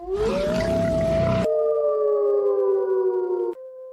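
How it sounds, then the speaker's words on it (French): A wolf howls in one long, sustained cry that rises and then holds a steady pitch for several seconds, loud and close at first over rough background noise, then ringing on alone before fading near the end. "Un hurlement de loup."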